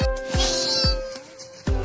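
A cat meows repeatedly, about four short nearby cries with pauses between them.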